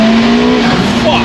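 A car's tires squeal in a sharp, sustained screech for about a second over the engine note, loud and close, with no talking in between.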